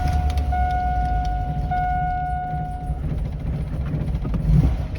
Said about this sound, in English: the car will start up, but the idle's whack